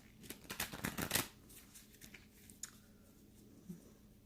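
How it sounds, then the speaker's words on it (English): Quick riffling shuffles of a tarot card deck at close range, a flurry of crisp flicks that then fades to faint handling noises. "So let's go ahead and shuffle the deck."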